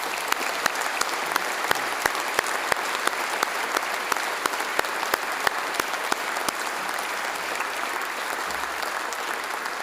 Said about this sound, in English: How about a round of applause for them too?